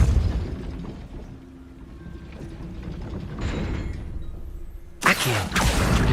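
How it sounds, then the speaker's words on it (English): A Depulso spell blast in a Harry Potter video game lands as a sudden, loud burst about five seconds in. Rumbling game ambience comes before it and a brief noisy tail follows. "Depulso."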